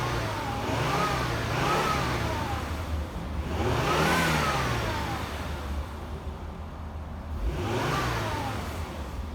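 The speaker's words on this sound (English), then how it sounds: "let's do a little rev here" A 2006 Volvo XC70 engine revved three times in a row, each rise and fall clearly audible with a short pause between, loud and close with no talking.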